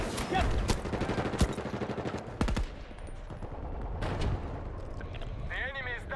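Battlefield 2042 battlefield gunfire, dense overlapping bursts of automatic weapons and sharp cracks, loud and chaotic, easing into scattered shots with distant mechanical whine near the end.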